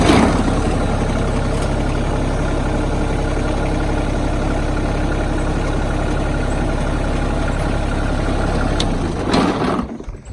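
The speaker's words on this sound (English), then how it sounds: "So I'm going to start the tractor, I'm going to lift the bucket." Kioti compact tractor diesel engine running steadily at idle while the front loader bucket is raised, a close, continuous low rumble that holds for about nine seconds before cutting off near the end.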